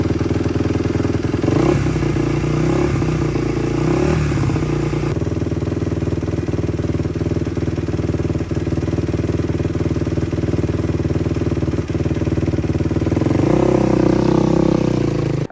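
Suzuki RMZ 250 dirt bike running after a clutch replacement, its engine a loud steady drone throughout with a couple of rises in revs near the start and again toward the end, no voices.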